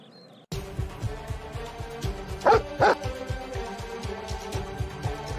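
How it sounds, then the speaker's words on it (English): Dog barking in repeated short, sharp yips and bow-wows, fairly close and loud over a steady background, with no talking. "Why is a dog chasing me?"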